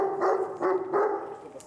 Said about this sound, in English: there is a dog in bad conditions here